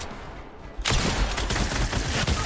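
Rapid submachine gun fire in a video game breaks out after a quiet moment and continues as a loud, dense burst of shots to the end.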